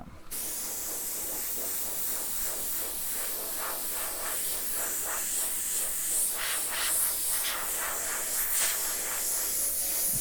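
An airbrush hisses steadily as it sprays paint onto a steel panel, a continuous close airy spray with slight pulsing as the flow varies.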